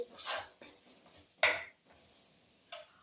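A spoon stirs chicken and potato curry in a metal pot, three distinct clinks and scrapes spaced about a second apart, fairly quiet against a near-silent background.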